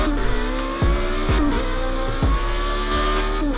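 Formula Renault race car in a racing video game at a Monaco-style street circuit, engine droning steadily while the tires squeal and slide through a corner, loud and close, with several sharp gear-shift dips.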